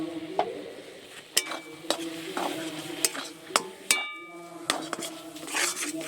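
A utensil stirs a dough of water, salt and white oil in a pan for soft ras puli pitha, giving quiet scraping punctuated by several sharp clinks and knocks against the metal.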